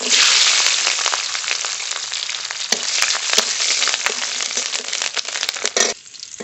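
Whole radhuni seeds and whole garlic cloves sizzle in hot oil as a tempering for a mustard-paste hilsa curry, a loud, steady crackling hiss with scattered sharp pops that cuts off near the end.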